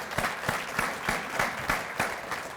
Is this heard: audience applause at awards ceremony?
yes